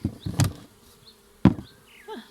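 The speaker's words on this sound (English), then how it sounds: "you may expect that some bees are angry" Agitated honeybees buzz around an opened hive, with sharp close buzzing bursts as bees fly past near the ear, between quieter gaps and faint whining flybys.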